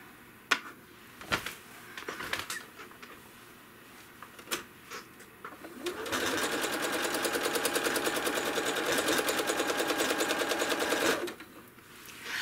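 A sewing machine whirs in a fast, steady stitching run for several seconds while machine quilting, preceded by scattered handling clicks and taps of quilt fabric being positioned.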